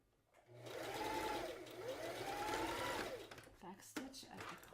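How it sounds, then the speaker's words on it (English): A sewing machine runs in two steady bursts, stitching along the edge of a kids newsboy hat peak, close and fairly loud before slowing to stop with faint handling noise. "I'm sewing directly to the edge of the hat peak"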